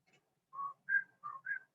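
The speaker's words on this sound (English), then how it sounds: "I can't whistle in the math very well." A person whistling in a classroom, four short clear tonal notes in a quick uneven tune, close and fairly quiet with silence between notes.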